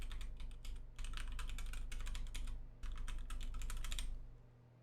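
A computer keyboard being pressed key after key in rapid bursts, crisp clicky typing up close, two long flurries separated by a short pause over a low steady hum.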